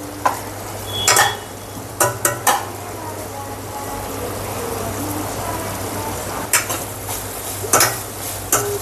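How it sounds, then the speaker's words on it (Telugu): Chennai-style mutton keema curry sizzles in a pan while a spoon pushes it aside and stirs, with loud scraping clatters in bursts over a continuous frying hiss. "కొంచెం అలా కర్రీ అంతా సైడ్కి తీసుకొని అలా ఫ్రై చేస్తారు"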